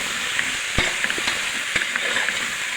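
Steady oil sizzle of potatoes frying in masala in a pan, with a few sharp scraping knocks of stirring against the pan.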